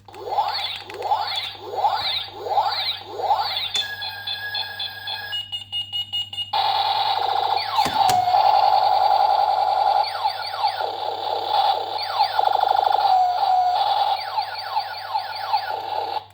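A toy robot's electronic sound chip plays warbling, chirping synthetic tones and rapid sweeping beeps as if on low batteries, loud and continuous, with a low steady hum underneath.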